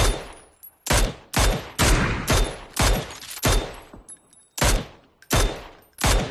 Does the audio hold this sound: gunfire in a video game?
yes